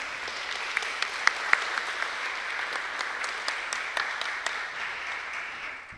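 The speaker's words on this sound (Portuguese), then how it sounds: "Uma forte salva de palmas." Audience applause at the close of a seminar talk on architectural heritage, a steady sustained wash of clapping with a few sharper individual claps standing out, fairly loud throughout and fading slightly at the very end.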